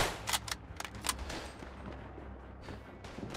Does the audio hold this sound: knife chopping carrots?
no